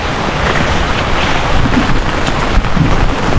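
Heavy, steady rain pours down in a flooded residential area after a full day of downpour on Christmas, a dense unbroken wash of noise that stays loud and close throughout, with no voices.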